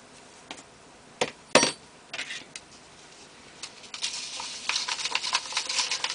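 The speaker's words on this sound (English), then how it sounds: "We're going to stir this to a pancake-like consistency." A watery grout and perlite mixture for an ant formicarium is stirred toward a pancake-like batter. Scattered soft taps and clinks come first, then a denser run of quiet scraping patter near the mic. No one speaks.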